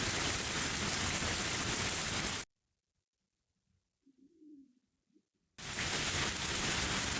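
Rain falls in the visual novel game Higurashi When They Cry as a steady, loud, dense hiss, broken midway by a quiet gap that holds a faint, brief bird-like coo.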